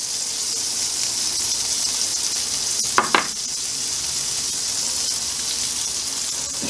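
Minced garlic sizzles in a pan set up for New York strip steaks, a steady bright hiss, nearby and even, with two quick clinks of a utensil partway through and no voices.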